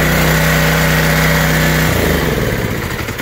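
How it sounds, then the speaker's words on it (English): A Predator 212 small engine runs loud and close, with a steady rough putter that shifts partway through as the speed changes. "And now when I turn the engine on"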